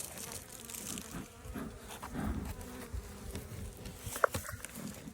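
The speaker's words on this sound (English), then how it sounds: "There's a bunch of bees under here." Bees buzz beneath hive equipment in a soft, close, irregular drone, with light handling noises and a brief sharp tap near the end.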